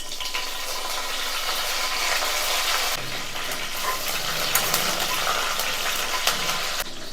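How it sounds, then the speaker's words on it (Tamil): A handful of curry leaves sizzle in hot oil after fenugreek seeds for a Tamil fish kulambu, a loud, dense crackling hiss that continues without a break throughout. "இப்போ இதில் ஒரு கைப்பிடி அளவு கருவேப்பிலையை சேர்த்துக்கும்."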